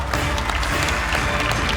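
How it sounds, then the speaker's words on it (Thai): A game show studio audience on a Thai code-breaking quiz program applauds, producing a dense, continuous wash of clapping that stays steady and fairly loud throughout. "ปรบมือให้ตัวเองกันหน่อยค่ะ"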